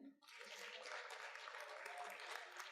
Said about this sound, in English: Ladies, clap for the men.